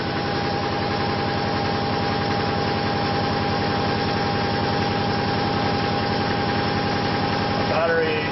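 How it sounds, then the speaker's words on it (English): A ReGen-X motor turns steadily at 645 RPM on 85 volts and 1 amp, a constant, even mechanical hum with rhythmic pulsing, close and continuous throughout. "1 amp at 85 volts going to our ReGen-X motor, 645 RPM."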